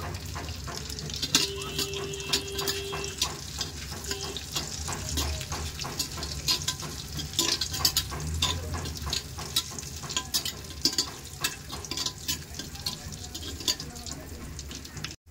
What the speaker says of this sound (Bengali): লবঙ্গ, গোলমরিচ সব দিয়ে দিলাম, দিয়ে একটু নেড়ে চেড়ে